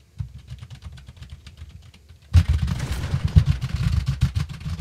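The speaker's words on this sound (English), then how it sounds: "I hear your keyboard." Rapid clicking of computer keyboard typing, soft at first, then louder and busier with clattering bursts partway through.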